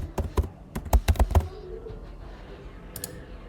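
Rapid bursts of computer keyboard typing, close and crisp, a flurry of keystrokes followed by a pause and a couple of final taps.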